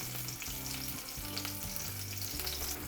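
Zucchini fries in a hot pan after a light sprinkle of salt, giving a steady, close sizzle that holds throughout with faint stirring shifts and no voices.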